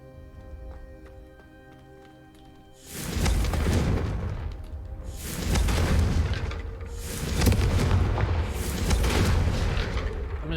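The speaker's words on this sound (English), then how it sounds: "I'm just gonna blow up your place here." Confringo fire-spell explosions in Hogwarts Legacy go off as several loud, rumbling blasts in a row after a quiet start, each swelling and fading into the next.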